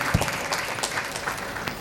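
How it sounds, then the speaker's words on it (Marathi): A brief burst of audience clapping at a women's association community event, many hands applauding together at moderate volume with no talk. "ह्या सर्वांसाठी एकदा पुन्हा टाळ्या वाजवूया"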